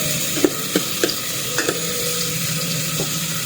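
Aromatics for sinigang sa miso sauté in a pan with a soft continuous sizzle, broken by several sharp scraping stirs of a utensil against the pan, close and fairly loud.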